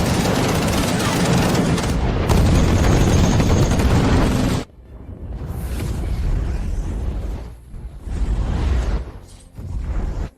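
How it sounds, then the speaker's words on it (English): Air defense guns and missiles fire in a dense, loud barrage of blasts and whooshes, cutting off abruptly and then returning as several further bursts of roaring launches and rumble. "All air defenses. Give me full firepower. Lock on and fire."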